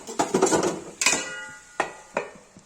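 A lid is set onto a pot of dry capsicum-potato sabzi, giving a sharp metallic clatter at the start. A few separate knocks of metal on metal follow, close and fairly loud with short pauses between them.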